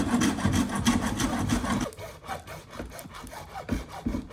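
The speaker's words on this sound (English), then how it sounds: "measure and cut the two 10-foot PVC pieces down to 4" A hand saw cuts through PVC pipe in rapid back-and-forth strokes, a close, rasping rhythmic scrape heard alone.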